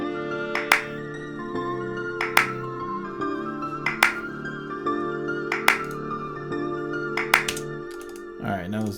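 A clap drum sample in Studio One hits in a simple repeating pattern, sharp snaps spaced about every second and a half over a sustained synth pad, close and clear.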